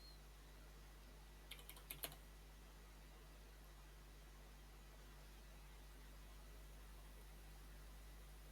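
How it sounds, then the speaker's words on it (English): A short flurry of computer keyboard keystrokes while a message is typed out, faint clicks over a steady low electrical hum, followed by several seconds of only background noise. "I'm just typing out a message in the Oswald Discord."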